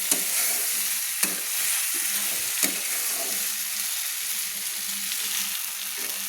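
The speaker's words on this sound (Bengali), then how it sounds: "যতক্ষণ না মশলা থেকে তেল ছাড়বে ততক্ষণ আমি নাড়তে থাকবো" Masala frying in oil for a mourola fish jhal, a steady close sizzle with a spoon stirring and scraping the pan, a few sharp clinks of utensil against metal.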